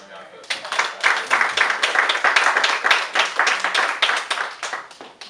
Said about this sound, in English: Y'all clap for that.